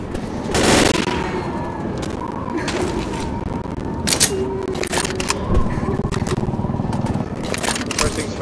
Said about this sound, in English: We need to shoot down that barricade.